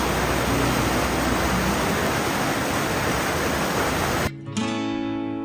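A canyon stream rushes loudly and steadily in a broad, continuous wash of flowing water, close by and alone, cutting off abruptly near the end.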